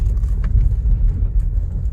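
Low steady rumble of a 2006 Cadillac STS with a 4.6L engine as the car creeps along, loud and close with a faint rise as the gas is touched.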